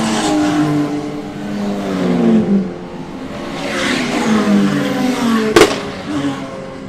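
Several race car engines roar and rise in pitch as they accelerate together at Donington Park GP circuit in a Brit Car race, loud and close, with a sharp burst near the end.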